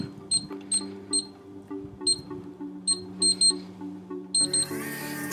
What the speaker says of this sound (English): If I press any key to wake the display, enter a valid ID and code